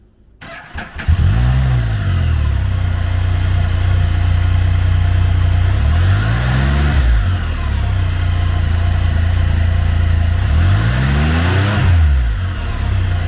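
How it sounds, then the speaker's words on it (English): A 2016 Can-Am Spyder F3 T SE6 trike's 1330cc three-cylinder engine cranks and fires, then settles into a loud, close, steady idle broken by three sweeping revs, with no talk. "Powered by a 1330cc 3-cylinder engine with a 6-speed transmission, the SPYDER produces 115 horsepower"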